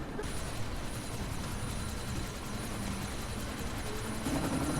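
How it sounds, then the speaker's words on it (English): Helicopter rotor and engine drone in Deus Ex: Mankind Divided, a constant dense low thrum holding steady throughout with no talk. "Chopper's been grounded."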